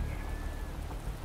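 Steady rain in the Motorsport Manager racing game, a continuous even patter of drops with no break, heard alone at a moderate level.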